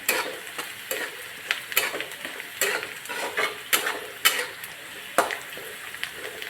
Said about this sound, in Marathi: आपण आता हळद टाकून घेऊयात एक अर्धा चमच हळद टाकली थोडंसं फ्राय करून घेऊया